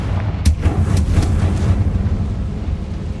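A Confringo fire spell in Hogwarts Legacy bursts in a heavy booming explosion, with a sharp crack followed by a rolling, rumbling blast that lingers and slowly fades.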